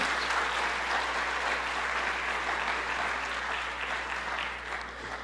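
A church congregation claps in sustained, dense applause during a sermon, loud and even at first and then tapering slightly toward the end.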